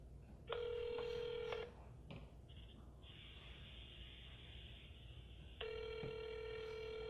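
A phone call on speakerphone rings twice, each ring a long electronic trill with a pause between, clear and fairly close over a quiet room.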